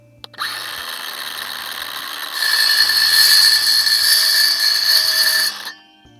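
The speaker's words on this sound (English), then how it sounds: "When you cut PVC with a circular saw, you gotta make sure you go real slow so you don't chip it" Battery circular saw cuts slowly through PVC pipe, a steady high whir that grows louder and harsher midway through the cut before stopping.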